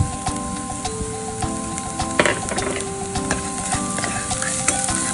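Chopped garlic sizzles steadily in hot oil while being stirred, with scraping utensil strokes and crackling close up throughout, no talking.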